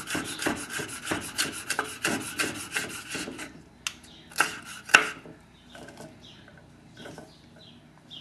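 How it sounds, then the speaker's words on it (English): A knife slicing bell pepper into thin julienne strips on a cutting board for a seaweed cucumber salad: a quick run of close rhythmic cuts, then sparser, sharper chops with short pauses between them. "nice small julienne pieces of pepper"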